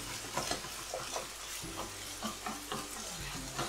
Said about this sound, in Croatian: Šampinjone, znači isto tako ovako na laganoj toj vatrici pržim dok tekućina potpuno ne ishlapi.